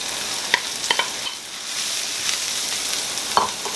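Leeks and mushrooms sizzle steadily in a hot pan, with a broad crackling hiss and a few soft clicks from stirring.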